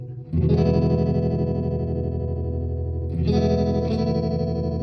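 A Mojo Hand FX Bayang modulation pedal on its square-wave setting pulses guitar chords in a choppy, sustained throb; one chord rings for about three seconds before a second chord is struck, played alone and up close.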